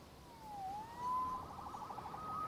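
Police siren from the Spider-Man PS4 video game, a single wailing tone that sweeps down and back up, then warbles rapidly, sounding moderately close over a low background rumble.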